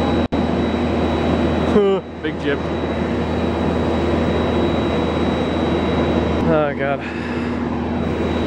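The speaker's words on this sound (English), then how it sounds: "Fucking plane on the tarmac, how cool are we?" A jet airliner's engines whine and roar steadily on the tarmac, a loud continuous drone that fills the whole stretch while people speak briefly over it.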